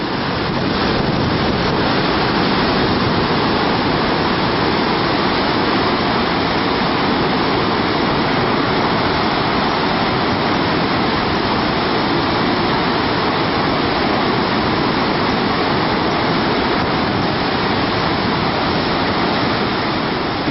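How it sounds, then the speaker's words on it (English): Nevada Fall in Yosemite thunders steadily, a loud, dense roar of falling water with constant spray and faint wind buffeting, unbroken for the whole span with no voices. "Nevada is one of the most celebrated waterfalls in all of Yosemite."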